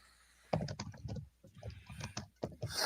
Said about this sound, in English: as James is typing away